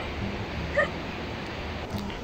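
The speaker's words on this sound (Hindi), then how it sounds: "कुत्ते बहुत ज़्यादा हैं और भाई को अगर काट लिया ना तो मेरा ट्रिप ख़राब हो जाएगा।" Dogs in a village give a brief yelp and whimper partway through, heard over a steady outdoor ambient background, with no talking.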